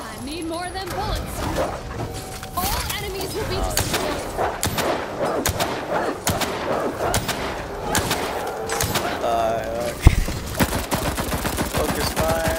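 Heavy, continuous gunfire in a Resistance 3 video game match, with sustained shooting and a sharp blast near the end, under players talking throughout.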